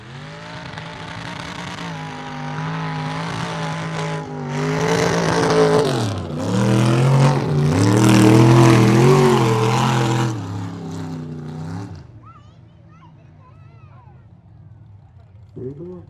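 Mega truck at a mud racing event, its engine roaring loudly and close as it revs, rising and falling in pitch before cutting away to quieter background noise.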